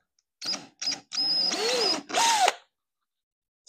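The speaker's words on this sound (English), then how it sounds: "I'm gonna start drilling these holes." A handheld power drill bores holes in a DIY skid plate for a Baja Rey truck on a workbench, with several short bursts followed by a longer run, the motor pitch rising and falling as the bit bites.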